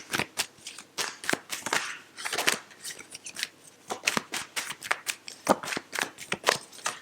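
A deck of tarot cards is shuffled close up, giving quick, crisp riffling and slapping bursts in an uneven but continuous rhythm, with no talking.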